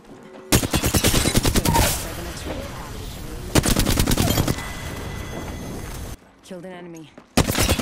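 Rapid automatic gunfire in Apex Legends, loud close bursts of rattling shots in several long volleys separated by brief pauses, with game voice lines in between.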